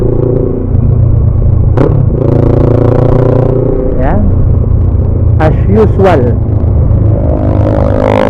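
Street traffic in Santiago City, Isabela, heard from a moving motorcycle: a steady engine rumble with passing vehicles and several horn blasts, under someone talking.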